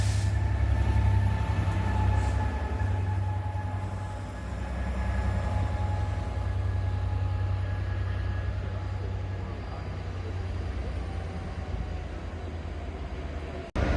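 A steady low rumble of a diesel locomotive, 67029, pushing an 11-coach passenger train, with a sustained engine drone and faint whining tones, holding constant as the train moves nearby.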